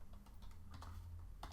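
Code being typed on a computer keyboard, a quick run of soft key clicks, close and quiet.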